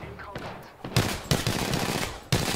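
Gunfire in Apex Legends: bursts of rapid automatic shots, loud and close, in short volleys with brief pauses between.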